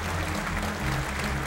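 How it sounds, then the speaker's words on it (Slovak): Big, sustained applause from an audience at a business awards ceremony, a steady dense clatter of clapping hands filling the room without pause. "Ešte raz veľký potlesk pre pána Tučeka"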